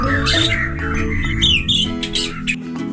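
White-rumped shama (murai batu) calling during breeding in captivity, a close, loud run of varied chirps, whistles and squawks, busy and continuous with no speech.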